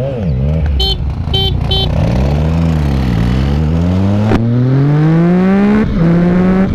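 Yamaha XT660, Suzuki DR650 and Honda XR650L motorcycles racing: loud engines rev hard and accelerate, their pitch climbing and dropping through gear changes, with a brief high tone near the start.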